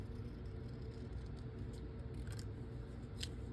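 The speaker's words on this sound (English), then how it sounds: "use my snips." Metal snips cut through paper card in a few quiet, crisp snips over a soft, steady background hiss, with the sharpest cut near the end.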